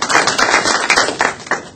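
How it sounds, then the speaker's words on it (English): Applause from a small crowd at a community meeting, close and lively, with individual hand claps clearly separated in a quick, uneven patter lasting under two seconds. "Round of applause."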